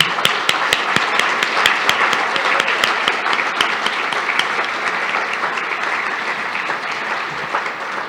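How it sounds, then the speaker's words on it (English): An audience at a speaker series event applauds Charles Schwab, a sustained, even round of crowd clapping with crisp individual claps popping out near the front, lasting about eight seconds. "One more round of applause for Charles Schwab."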